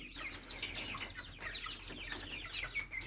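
Chickens and roosters in a coop give scattered clucks and short calls, several birds overlapping at moderate distance with some wing flapping, no talking.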